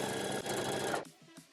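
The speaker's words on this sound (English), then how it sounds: "then we'll take it over to the sewing machine" A sewing machine runs steadily, stitching the sleeves of a denim puffer jacket, a loud, even mechanical whir with a brief dip partway through before it stops and leaves a few soft handling sounds.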